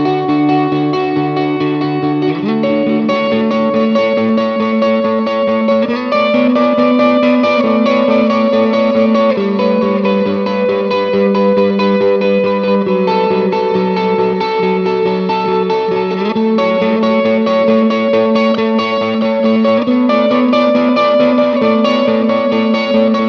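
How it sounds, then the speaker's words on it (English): An electric guitar played through effects with light distortion, chorus and reverb alternates low bass notes and higher treble notes in a steady, continuous pattern with no talking. "The other way of playing it is I'm going to alternate my bass and my treble."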